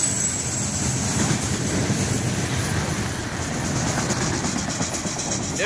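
FEC freight train 202 hauling cars behind a GEVO locomotive on the Florida East Coast mainline at a curve, a steady close rumble and rush of rolling wagons holding loud and even throughout with faint clickety-clack.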